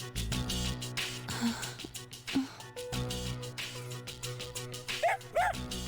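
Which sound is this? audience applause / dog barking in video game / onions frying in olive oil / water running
dog barking in video game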